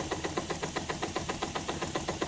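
A small homemade steam engine built from a spark plug and fitted with an extra flywheel runs steadily, its quick, even chuffing beats close and clear with no talk.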